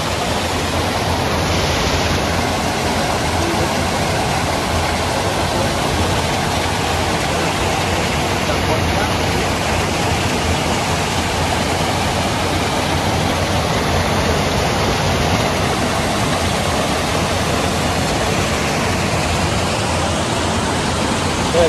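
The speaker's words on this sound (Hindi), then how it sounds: "यहाँ पर जो देखो पूरा पत्थर के ऊपर में पानी गिर के आता है" Water pouring over rocks at an eco tourism park in Karbi Anglong, a loud, steady broadband rush that continues unbroken and close by throughout.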